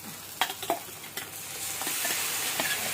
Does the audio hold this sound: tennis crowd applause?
no